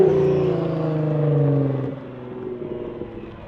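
A Nissan GT-R's 4.5-inch titanium exhaust drones with a smooth, steady engine tone that eases off partway through, leaving a lower idle burble and a faint turbo whistle.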